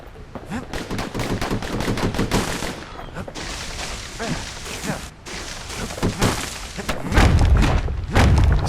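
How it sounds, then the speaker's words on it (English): Dual slinger pistols firing in the action game Bastion, rapid bursts of shots that run almost nonstop, loud and up close, with thuds and a heavier boom near the end. "Having two. Kid's faster than a slinger with those guns."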